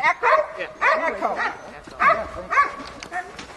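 Sled dogs at a winter festival sled dog race, one riding on the back of a truck, bark and yip excitedly in close, repeated bursts with short pauses between them.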